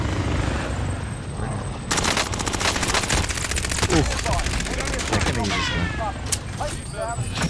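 Rapid automatic gunfire in a Warzone video game match, sustained bursts of loud cracking shots over a dense bed of game noise and effects.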